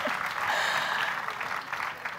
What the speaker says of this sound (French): Merci beaucoup d'applaudir.